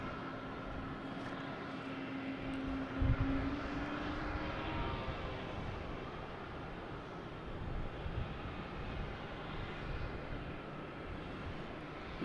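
A fixed-wing airliner takes off at Boston Logan Airport, a broad, steady jet roar heard from a distance that holds evenly throughout with a faint rising tone early on, no talk.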